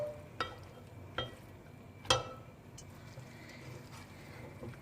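Sweet saffron rice (zarda) being stirred and mixed in a pot, with a few distinct scraping knocks of a spoon against the pot over a faint background hiss, no voices.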